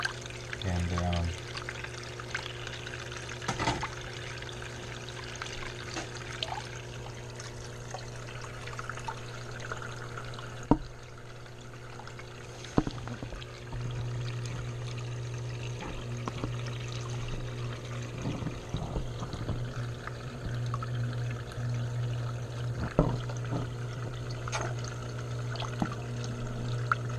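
Water sloshes and trickles as gravel is swirled in a gold pan, soft intermittent pours and splashes over a steady low hum, with a few sharp clinks of stones and occasional quiet talk.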